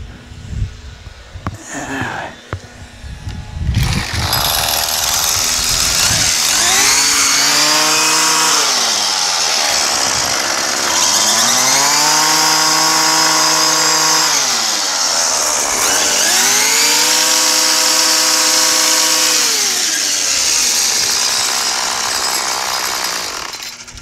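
Free Craftsman 32cc auto-choke straight-shaft string trimmer, just tuned at its fuel adjustment screws, starting up and running loud and close, idling then revving up and down in three long swells with no talk.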